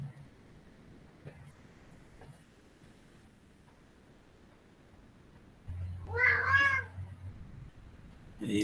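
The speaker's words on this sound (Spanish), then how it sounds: "El gato quiere participar también." A house cat lets out a single drawn-out meow partway through, close and fairly loud, rising above a quiet room background with a faint low hum and a few small clicks.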